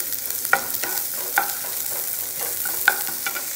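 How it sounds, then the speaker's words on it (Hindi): Chopped onions frying in hot oil in a pan, a steady close sizzle with a few sharp clicks of stirring scattered throughout. "तो बस ऑयल गर्म होते ही मैंने इसमें प्याज डाल दिया"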